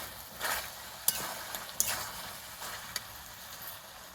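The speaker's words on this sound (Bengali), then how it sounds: "এখন আমি চাপাটা খুলে নেব। একবার নাড়াচাড়া করে নেব।" Chicken malai curry stirred in a pot, with soft scraping and sizzling plus a few sharp clinks of the spoon against the metal, heard close and fairly quiet.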